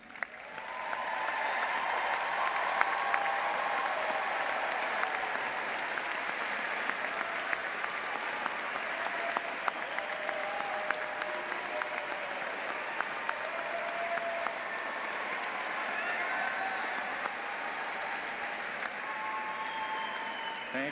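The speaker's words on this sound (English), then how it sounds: "will you please stand so we can applaud your accomplishments?" A large audience applauds standing graduates at a Florida State University spring commencement ceremony, sustained dense clapping filling a big hall, steady and loud without any voices over it.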